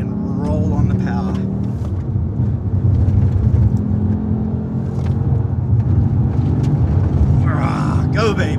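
A race car accelerates hard on a closed road, its engine a loud, close rumbling drone with rising revs, heard from inside the car alongside a talking voice.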